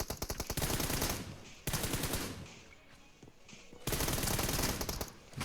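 Rapid bursts of automatic gunfire from a shooting video game, loud and close, in several dense volleys separated by brief, quieter gaps.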